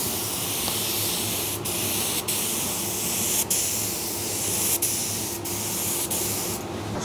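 Spray gun laying a second coat of red paint onto a bike frame, a close, continuous hiss broken only by a few brief pauses, steady and fairly loud with nobody talking.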